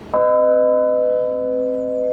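A single church bell, chimed by an Ellacombe apparatus, struck once with a sharp onset, then a long sustained ringing hum with steady overtones slowly fading, heard up close with no talking.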